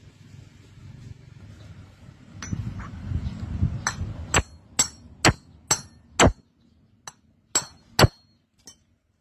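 A hammer knocks a bearing into place on a Honda belt-drive scooter about a dozen times, sharp ringing knocks in an uneven rhythm, following a stretch of low scraping and handling noise.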